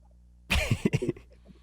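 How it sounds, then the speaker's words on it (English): A single close burst of harsh coughing, several rapid hacks in a row, then quiet. "you've been coughing for about a year now."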